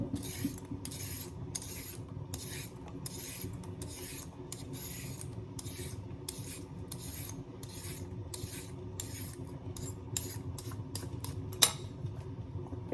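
Carrots being grated or shaved into small pieces for chicken fried rice, a steady run of rhythmic raspy strokes close by with short gaps between them, and no talking.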